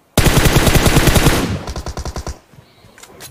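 Rapid automatic gunfire sprays in a tactical shooter video game, a loud burst of tightly spaced shots fired through smoke that thins into a few slower trailing shots and then fades.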